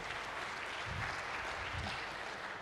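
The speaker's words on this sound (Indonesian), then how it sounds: "Saya boleh minta tepuk tangan Bapak Ibu sekalian." Audience applause in a large hall at a general lecture, steady clapping from many hands throughout, moderately loud with no talking over it.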